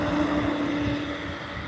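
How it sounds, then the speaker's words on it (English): An Embraer jet taking off at Albany International Airport, heard as a sustained engine roar with a droning whine, moderately loud and steady, buffeted by wind noise. "The American was just pushing back as the Embraer was coming up for departure"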